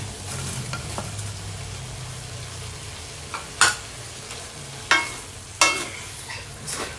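Tofu and bean sprouts stir-fry in a pan, a steady sizzle broken by several sharp scrapes and clacks of a spatula against the pan.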